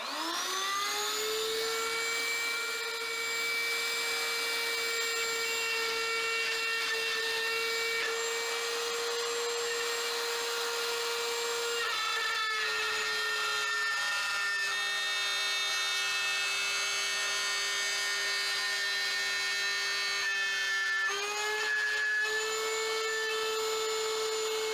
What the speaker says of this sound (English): This is the technique I use for all through cuts using my router.